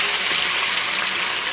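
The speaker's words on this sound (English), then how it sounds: "We're going to pour the egg" Liquid egg hitting a hot, oiled frying pan, giving a steady close sizzle and hiss that holds evenly throughout with no talking.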